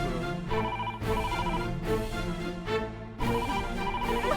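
A phone rings in the morning with a repeating electronic ringtone melody, steady pulses about every second, close and alone without talk.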